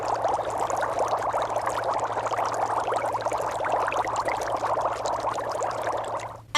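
Breath blown through a tube pushes air into a water-filled jar, a continuous, even bubbling that runs for several seconds and then stops abruptly.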